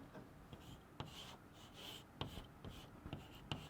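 Handwriting on paper or a board while filling in chemistry notes, a soft scratchy stroke sound with occasional taps of the pen, close and quiet, with no talking.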